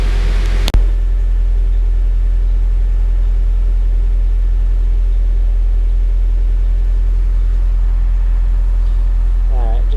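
A Honda F20-swapped Integra engine running with VTEC engaged, a loud, steady low drone with a sharp click near the start and no pauses.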